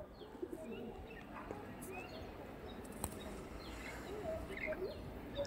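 Tournament-quality pigeons coo faintly amid a busy background, with low murmuring calls, scattered light chirps and a few sharp knocks spread through the stretch.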